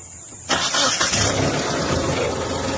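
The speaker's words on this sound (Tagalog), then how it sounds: "start mo, Prime." A car engine cranks and catches after a short silence, then settles into a loud, steady idle close by, at a garage after cylinder head gasket work.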